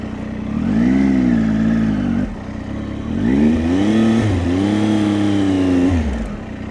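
A motorcycle engine rises and falls in revs during slow, tight turning, with two clear surges, the second longer, each followed by easing off; close, loud and steady with no talk.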